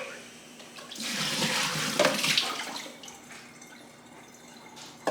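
Water dumped out of a bowl in a home kitchen setting: a sudden rushing splash that swells and pours for a couple of seconds, then trails off into drips and quiet.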